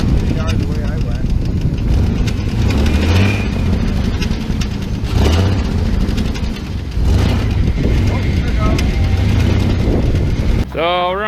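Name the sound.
turbo Chevrolet Silverado truck driving with broken transmission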